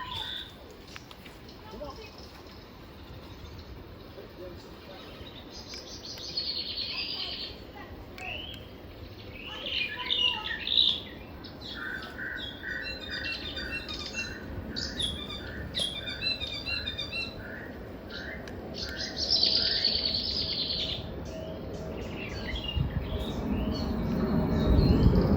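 A wild bird sings outdoors in New Zealand, a model for the tui's mimicry, with repeated chirping phrases heard at moderate distance under people talking and some wind noise.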